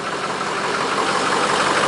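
A 2005 Ford F250 XLT FX4 engine runs at a cold start, a steady loud idle with an even mechanical drone and no talking over it.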